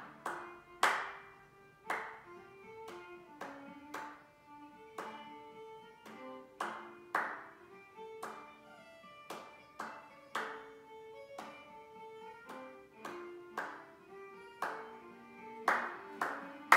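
Hands clap in time to a minuet, each sharp clap landing regularly on the beat over soft melodic music, keeping a steady dance rhythm throughout.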